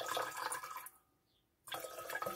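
Liquid is poured into a container, making a soft splashing trickle that stops for a moment and then starts again. The sound is faint and close, with no voices.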